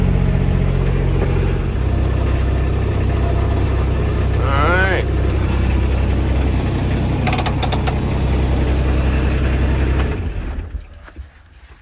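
A portable generator drones steadily close by outdoors, powering a remote tree watering system, with a brief voice and a few clanks before it fades near the end.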